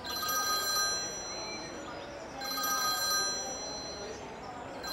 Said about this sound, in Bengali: সাইড ব্যাগের ভেতরে হঠাৎ মোবাইল ফোনটা ঝনঝন করে উঠল।